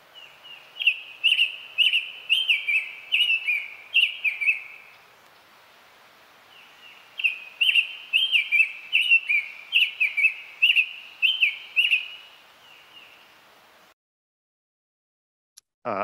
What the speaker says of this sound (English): So here's a summer tanager.